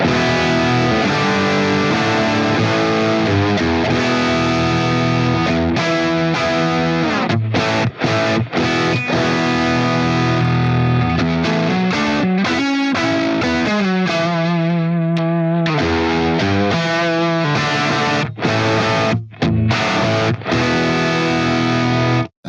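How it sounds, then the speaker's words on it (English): Electric guitar through a ToneX One Plus modelling a 1965 transition-period script-logo amp head, loud driven chords and riffs with sustained harmonic-rich tone, brief pauses between phrases, no talking. "Let's have a listen to an example of the same amp. This is the script logo, the transition period head."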